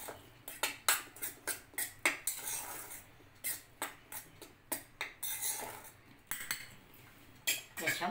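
A metal spoon mixes fine semolina with a pinch of salt in a bowl for churma ladoo, making quick rhythmic clinks and scrapes in repeated bursts, close and fairly quiet, with no talking.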